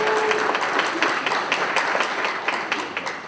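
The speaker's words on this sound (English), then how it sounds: "Did you clap for Samel?" Audience applause at a high school basketball tip-off event, steady clapping from a crowd in a gym that runs unbroken for a few seconds with scattered sharper claps standing out.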